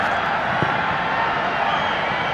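A dense stadium crowd at a Nepal versus Myanmar football match at Dashrath Stadium: a steady, loud roar of many voices with no distinct cheer peaks, heard as a continuous wash of sound.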